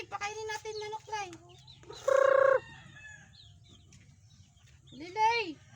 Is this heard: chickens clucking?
yes